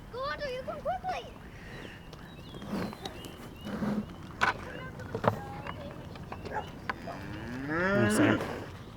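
Cattle moo several times during a spring move of a herd through a field, with a long low call at the start and another near the end, while a person calls out to them between the moos.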